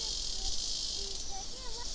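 A cicada sings in New Caledonia, a loud continuous high-pitched buzzing drone that holds steady throughout, with faint bird chirps in the background.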